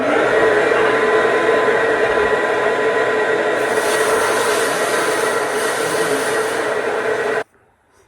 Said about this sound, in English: So we got the blasting and everything done.